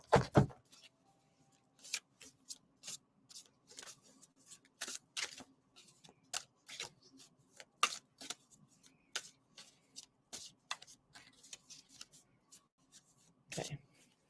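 Repeated riffling and snapping of a new deck of playing cards being shuffled by hand, sharp papery bursts recurring irregularly at close range in a quiet room, without talk.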